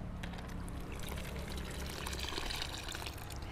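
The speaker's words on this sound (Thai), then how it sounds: "เวลาเราจะใช้งานนะคะเราก็แค่บีบน้ำออกแบบนี้นะคะ" Water squeezed by hand out of wet Chilean sphagnum moss, a steady close pouring and trickling stream that runs on without a break and has no talk over it.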